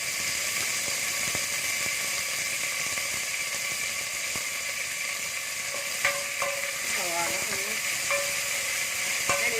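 Two medium sliced onions frying in coconut oil in a pan give a steady, bright sizzle throughout, with stirring scrapes and clinks from a utensil in the second half.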